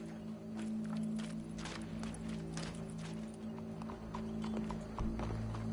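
Horse hooves clip-clop steadily on a hard surface, a continuous rhythmic beat with some background noise and no speech.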